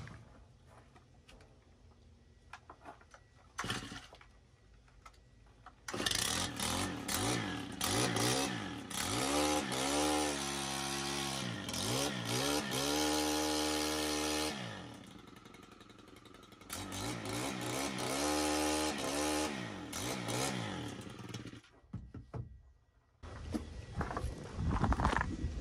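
A KM111R gas engine, choke on and primed, is pulled over several times, then catches and runs loud and close with a steady, wavering drone that dips briefly before revving again, outdoors on a steep mountainside landscaping job.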